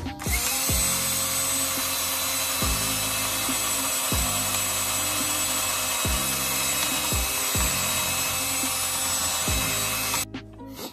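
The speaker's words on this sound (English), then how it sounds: "grab this handy dandy drill here and just start drilling these rivets out" A power drill whirs close by in repeated bursts, its pitch dropping and restarting every couple of seconds as it bites through metal rivets on a Maverick X3 trailing arm.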